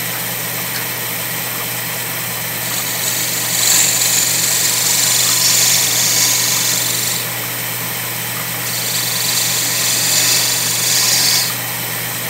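A steady mechanical whir of a wood lathe spinning while turning a wig stand, with a hissing cutting sound that swells and fades in two long passes.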